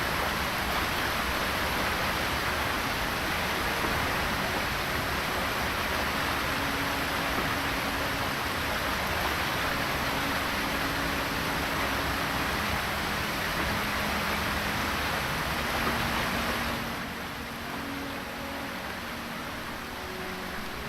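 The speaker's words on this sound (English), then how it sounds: "I like the water sounds, but they're a bit strong sometimes." Steady broadband rush of flowing water in the fantasy video game LOTRO, a constant, fairly loud ambient wash with no voices, dipping slightly toward the end.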